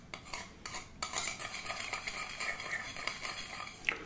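Mustard and vinegar stirred together in a bowl for a shrimp, salmon and grapefruit salad: close, soft scraping and clinking of a spoon against the dish in quick irregular strokes, with no voice.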